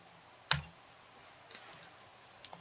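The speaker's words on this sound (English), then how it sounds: "I hear again the unsettling clicking of at least 10 locks being pulled back" Door locks being pulled back in the Katawa Shoujo visual novel produce a few sharp, isolated clicks spaced about a second apart over a quiet background.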